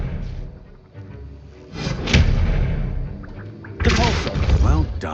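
Expelliarmus spell effect from the Hogwarts Legacy video game, a sharp shattering crash and thud bursting out mid-clip and again near the end, loud, layered with game voices and a busy background.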